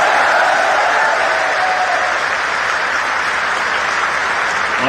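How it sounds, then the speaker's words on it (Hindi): Loud, continuous applause from a large audience at a political speech in Bhopal, steady clapping filling the whole stretch with no voices standing out. "और उतने ही जोरदार ताली श्रीमान अमित शाह जी के लिए भी, हमारे गृह मंत्री जी के लिए।"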